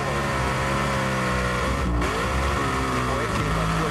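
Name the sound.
drag racing car engine revving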